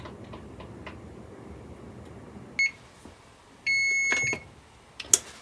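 A kitchen timer sounds after a 20-minute countdown while sourdough pumpernickel rye bread bakes, giving a short beep and then a steady tone of about a second, close and clear over faint kitchen rustling and clicks.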